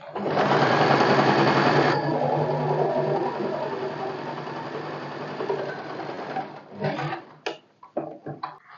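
An electric sewing machine runs a double stitch on salwar fabric, a loud, fast, even whirring for several seconds that then slows and stops, followed by a few short clicks and handling knocks.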